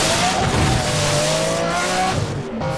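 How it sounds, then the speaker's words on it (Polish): Lamborghini Estoque engine with turbocharger in the racing game NFS World, a loud, continuous engine drone with shifting pitch and a faint whistling whine, steady throughout and slightly dipping at the end. "Praktycznie jak typowy Lambos, z tym, że słychać gdzieś tam tą turbosprężarkę."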